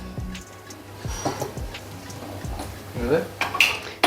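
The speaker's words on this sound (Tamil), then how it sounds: "இந்த கடாயை இங்கே மாற்றிக்கிறேன் கிளறத்துக்கு கொஞ்சம் தூரமாகுது" A metal kadai shifts across a home stovetop during South Indian cooking, giving several close, sharp clanks and scrapes of cookware that come in uneven bursts against a quiet kitchen.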